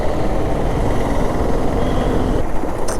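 Toyota Vellfire luxury car passing outside a service center, a loud steady rumble of engine and road noise throughout, mixed with other traffic.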